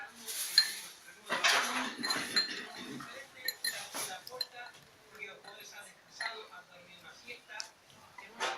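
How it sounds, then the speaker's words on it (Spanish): Utensil scraping and clinking against a bowl while stirring powdered sugar into homemade edible slime, irregular close scrapes and light taps, with a few soft clinks. "ahora tenemos que ir echando el azúcar flor poco a poco y revolver"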